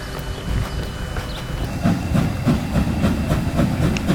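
A steam train runs past with a steady, loud rhythmic clatter of wheels over rail joints, a continuous rumble with faint hiss above it, and no voices.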